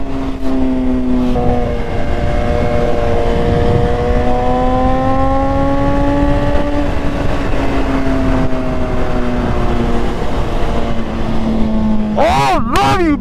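A BMW S1000RR sport motorcycle accelerating hard in third gear, its engine note climbing steadily in a loud, sustained howl with wind rush, ending in a quick burst of rising revs.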